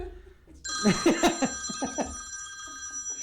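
A phone rings nearby with a steady electronic tone over a few seconds, with brief clicks and short bursts of sound around it.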